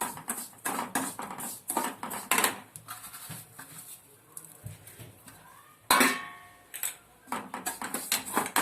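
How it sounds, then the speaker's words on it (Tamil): Semolina roasting in ghee in a pan, heard as bursts of spoon scraping and clinking against the metal in uneven clusters with quieter pauses between, close by and without speech. "இப்போ ரவையை போட்டு நல்லா வறுத்துக்கலாம். ரவை நல்லா வறுக்கணும்."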